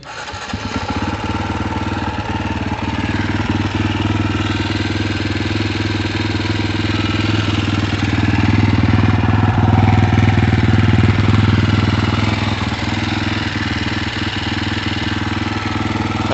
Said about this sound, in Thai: เดี๋ยวเรามาลองฟังเสียงเครื่องยนต์นะฮะ